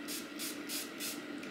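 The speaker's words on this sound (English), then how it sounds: "I use just a regular beauty blender and then I spray it with some of this." A skin mist sprayed onto a makeup beauty blender sponge: three quick, breathy hissing bursts in an even rhythm, close and clear with no talking.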